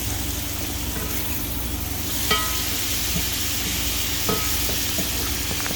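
Rice frying in a pan, a steady close sizzle broken by occasional scrapes and knocks as it is stirred.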